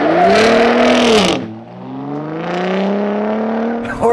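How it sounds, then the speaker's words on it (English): A 2021 Ford F-150 Raptor with a 3.5-liter EcoBoost V6 accelerates hard from a brake-boosted start, its engine rising loudly through the revs, dropping at a gear change, then climbing again with a faint squeal near the end. "The 2021 Ford Raptor. Without launch control, brake boost."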